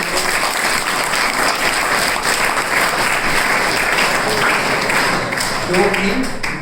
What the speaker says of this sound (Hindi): तो ताली बजाओ, इतने बढ़िया बच्चे।